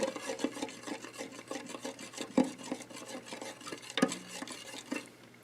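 About a tablespoon of regular table salt stirred into a container of water with a spoon, giving a steady close scraping and swishing with a few sharper clinks, quiet and without voices.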